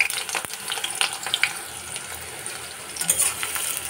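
Chopped onions hit hot smoking oil in a pan and fry with a bright steady sizzle, close by, with a few sharp crackles and clinks of stirring and no voices.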